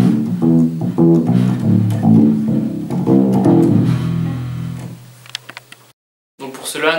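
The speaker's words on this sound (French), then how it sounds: "et voici le son d'une guitare basse." A bass guitar plays a series of deep, plucked notes that ring and fade, followed by a brief silence and some light clicks.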